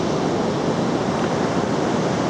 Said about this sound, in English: It's just tide's flooding in.